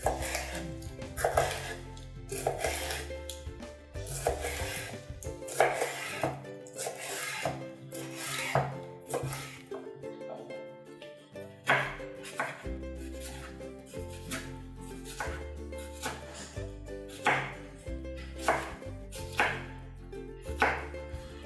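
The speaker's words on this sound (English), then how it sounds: "it's time to chop the pepper. We are going to chop it in very thin pieces." A knife chops a pepper into very thin slices on a board, rapid rhythmic knocks and scraping repeated steadily for a long stretch up close, with no talk.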